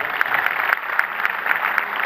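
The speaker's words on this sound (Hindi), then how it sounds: "एक बार इसी बात के लिए ताली हो जाती है" An audience at a Hindi poetry gathering gives a brief burst of dense, steady clapping, loud and close, with no voices over it.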